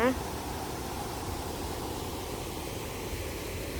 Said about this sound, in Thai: มีน้ำตกเลยนะคะ